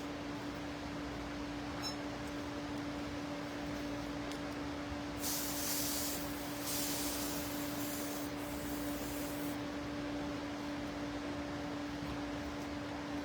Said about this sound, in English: I'm going to spray my spoons off right here